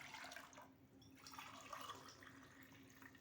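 Lukewarm water pours into a vessel in a kitchen, a soft continuous splashing fill heard faintly and close, with a low steady hum underneath and no talk.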